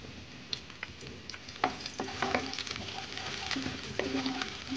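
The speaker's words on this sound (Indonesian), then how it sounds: "Minyak sudah panas, sekarang akan saya tumis bawang putih." Garlic is sautéed in hot cooking oil for a curry-sauce spaghetti. A soft, close sizzle runs under frequent clinks and scrapes of stirring.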